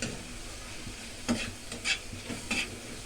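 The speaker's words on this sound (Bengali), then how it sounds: "ভালো করে নাড়াচাড়া করে কষিয়ে নেব" Spices fry in a pan for a Bengali egg curry with kalonji, a soft sizzle running underneath while a few short stirring scrapes and clinks sound close by.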